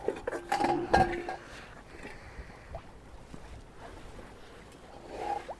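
Metal clinks and scrapes of a pot being handled up close, a few sharp knocks early, then quieter shuffling in a faint outdoor background.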